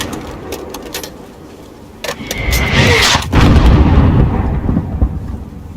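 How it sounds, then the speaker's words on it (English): Mortar fire in Call of Duty Modern Warfare: after a quiet stretch, loud booming blasts hit with a long, rolling low rumble that lingers, plus sharp cracks mixed in and no talking. "There's still a mortar out there."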